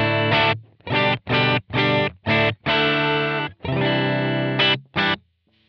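Electric guitar through a Morning Glory overdrive pedal with light drive strums a series of short, punchy chords with brief gaps between them, then lets a final chord ring into silence.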